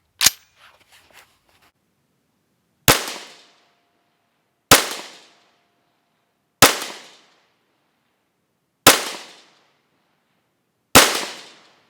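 Rifle fired outdoors through a BCM barrel: six sharp, loud shots spaced about two seconds apart, each trailing off in a short echoing decay, with silence in between.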